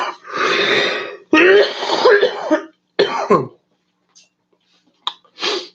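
Someone coughs and clears their throat in several harsh, close bursts separated by short silences, with a couple of faint brief sounds near the end.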